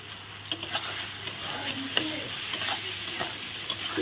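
Chicken curry sautéing in a pan with turmeric, salt and a whole onion, a steady low sizzle broken by scattered clicks and scrapes of stirring, heard close with no talking.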